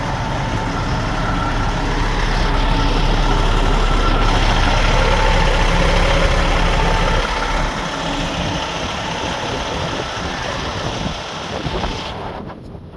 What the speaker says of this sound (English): So the semi decides to back up down here and just back right into our internet line.